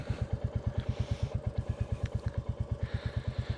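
A Royal Enfield Bullet 350 engine with a decat exhaust pipe runs with a steady, rapid low-pitched thumping pulse, close and loud, holding a constant rhythm without clear rises in pitch.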